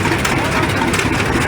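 A John Deere Model A tractor engine rumbles at an old engine show parade, a loud, close, continuous chugging drone.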